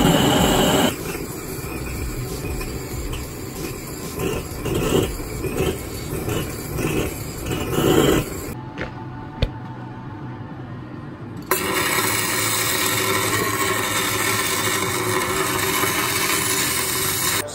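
Stick welding on a differential's spider gears, with bursts of crackling and sizzling arc noise and irregular pops close by, a few seconds of near quiet, then a steady loud crackle resuming.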